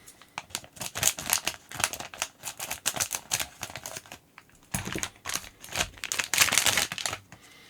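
Crinkly tearing and rustling of an AliExpress plastic mail package being ripped open, with dense bursts of crackling that pause briefly midway and then resume, close and fairly loud.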